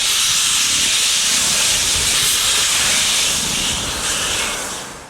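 Steam locomotive number 3 hisses loudly and continuously at a heritage railway steam festival in Niles Canyon, with a low rumble of the engine moving underneath the broad, sustained steam roar.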